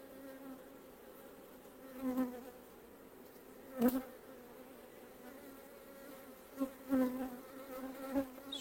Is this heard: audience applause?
no